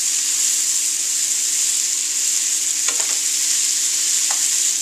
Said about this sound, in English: Let me finish getting these mushrooms sauteed up